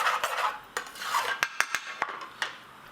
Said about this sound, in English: you just want to scrape around the sides and then mix the bottom